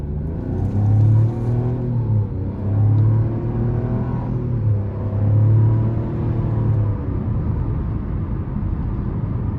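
A 2023 Chevrolet TrailBlazer LT with a 1.2L turbo three-cylinder pulling hard through the gears, its engine tone rising in three loud surges, each dropping back at a shift, heard from inside the cabin.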